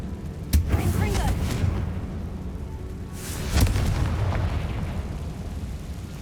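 Two Confringo spell explosions in Hogwarts Legacy, each a sharp blast with a rumbling tail, spaced about three seconds apart over low background game sound.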